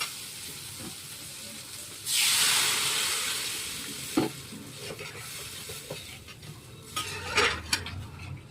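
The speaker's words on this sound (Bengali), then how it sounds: "এবার আমি জল ঢেলে দেবো।" Water is poured into a hot pan of curry, hitting the oil with a loud, sudden sizzling hiss that slowly fades, followed by a few metallic clinks and scrapes of a utensil against the pan.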